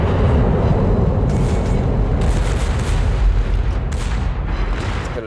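Warship main guns firing in the World of Warships video game: loud, heavy booming rumble throughout, with several sharper blasts swelling over the roar, close and dense, with no talking.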